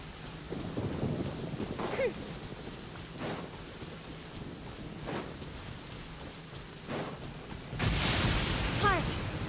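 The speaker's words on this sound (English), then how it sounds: "I hope it's just rain, not thunderstorm." A thunderstorm in the video game Genshin Impact brings steady, hissing rain with repeated low thunder rumbles and a louder crack of thunder near the end.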